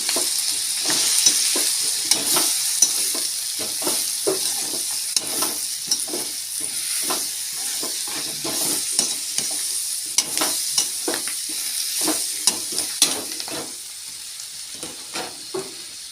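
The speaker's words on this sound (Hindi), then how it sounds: "मैं इसमें डालूंगी सब्जी। फिर इसको मिक्स करेंगे।" Vegetables sizzle and fry in a pan with repeated stirring scrapes in a steady rhythm, close and fairly loud, with no voices over the cooking.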